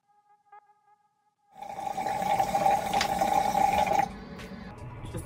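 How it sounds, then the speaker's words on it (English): Water splashes and runs steadily as a face is rinsed, a close, rushing wash that starts after a second and a half of near silence and continues for a few seconds before easing. "now I'm just gonna rinse this off"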